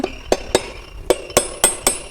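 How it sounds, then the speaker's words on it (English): Engine piston components are struck with a plastic hammer in a workshop, giving seven sharp, close taps in an uneven rhythm, each ringing briefly and with no speech. "We have to use plastic hammer."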